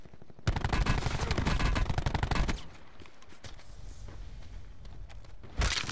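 Rapid bursts of gunfire from Call of Duty Black Ops 4 in Blackout mode, a loud dense volley for about two seconds, then quieter scattered game sounds and another short blast near the end.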